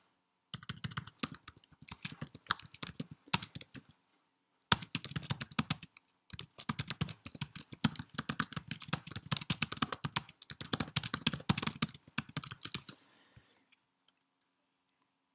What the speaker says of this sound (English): Now I can just simply type a person's name that I want to address.